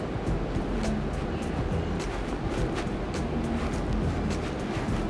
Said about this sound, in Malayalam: ഇതിലേക്ക് ഡ്രെയിൻ ചെയ്ത് വെച്ച റൈസ് ഇട്ട് കൊടുക്കാം.